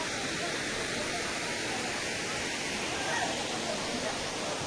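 Machakandana waterfall in Mayurbhanj gives off a steady, even roar of rushing water that fills the whole stretch without pause or change.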